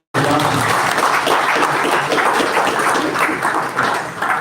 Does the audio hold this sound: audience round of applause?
yes